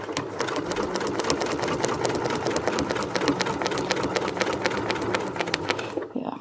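Sewing machine stitching along a quilting template with a ruler foot, a fast, even needle rattle running steadily for several seconds and then stopping abruptly.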